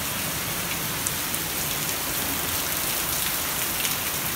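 Heavy rain pours down steadily as a dense, loud hiss of drops hitting surfaces, continuous and close throughout with no voices.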